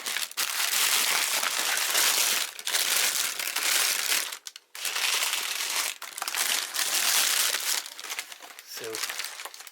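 Wax paper being unwrapped from a new leather belt, loud close crinkling and crumpling in long continuous bursts with brief pauses, filling most of the stretch.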